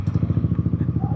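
A motorcycle engine runs close by with a steady, rapid putter of evenly spaced pulses throughout.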